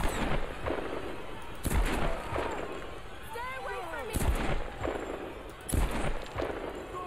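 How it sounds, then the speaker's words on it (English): Gunfire in the video game Tomb Raider, several loud sharp shots in bursts with booming low impacts, heard alongside in-game sounds and occasional talk. "Come on, let me shoot this bitch."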